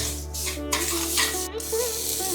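Green chillies, salt and curry leaves hit hot oil in a pan for farali upma, giving a close, steady sizzle and crackle with occasional stirring scrapes.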